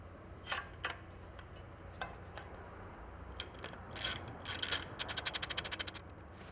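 A ratchet drives a 4mm Allen hex bit on the heat shield of a Triumph Scrambler's shotgun exhaust, giving scattered single clicks and then a quick, even burst of about a dozen sharp ratcheting ticks close by.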